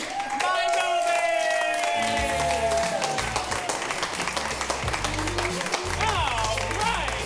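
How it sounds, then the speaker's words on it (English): Audience at an improv comedy show applauds the cast, steady clapping and some cheers over music and a speaking voice, loud and sustained throughout. "Give the cast a round of applause"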